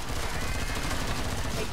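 Rapid gunfire in the zombie shooter video game Killing Floor 2, a steady, loud burst of shots filling the whole moment with no pauses, while a player talks over the shooting.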